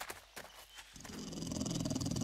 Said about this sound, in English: We were attacked by a dog!